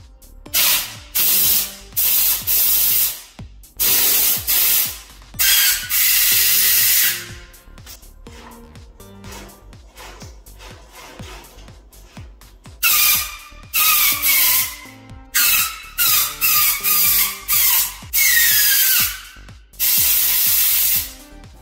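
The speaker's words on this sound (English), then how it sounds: "I just gave all of the lines a generous blowing out with compressed air." Compressed air blasts through the chassis lines of a 1971 VW Super Beetle in loud, hissing bursts of a second or two, repeated with short pauses, some sputtering as debris clears, no talking.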